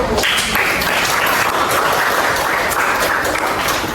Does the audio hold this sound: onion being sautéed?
no